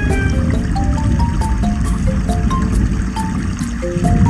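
Steady rushing and splashing water at a water park fills the scene, loud and continuous, with bright droplet-like blips scattered over a constant watery roar.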